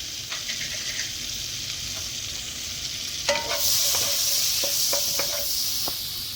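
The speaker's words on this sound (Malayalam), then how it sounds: "ബട്ടറിലേക്ക് കുറച്ച് ചെറിയ ജീരകം ഇട്ട് കൊടുക്കുക." Cumin seeds sizzle in hot butter in a pan, giving a steady close hiss. Around the midpoint the sizzle swells louder, with a few light clinks and stirring scrapes.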